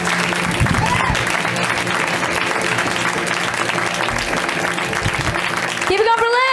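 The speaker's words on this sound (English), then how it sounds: "Clapping already happening." A comedy club audience breaks into sustained applause and cheering, a full, dense crowd sound that carries on at steady loudness, with a host's voice rising over it near the end.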